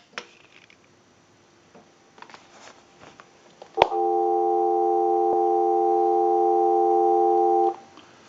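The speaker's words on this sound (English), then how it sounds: "we'll give you some dial tone" Telephone dial tone on an Automatic Electric 1A Monophone line under test, a steady, loud, multi-pitch hum lasting about four seconds. It follows a sharp click and is preceded by faint handling clicks and rustle.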